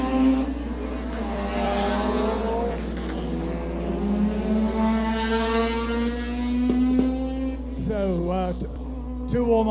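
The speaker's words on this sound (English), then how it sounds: "the Miata of Mark Samaru didn't sound very healthy as it went past us" A Mazda Miata race car with a rough, unhealthy-sounding engine passes during warm-up laps at a Guyana GT race. Its engine tone rises and falls over a constant low electrical hum, and a second engine note sweeps past near the end.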